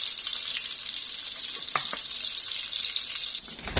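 Hot oil sizzling steadily as food fries in a pan, a close, continuous crackle with a few brief clinks of a utensil and strainer, no talk.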